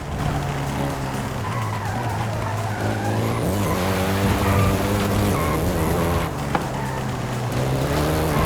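A Volkswagen Golf GTI driven in the racing game Forza Horizon 5, its engine droning loud and steady with shifting revs and tire squeal through corners, continuous throughout.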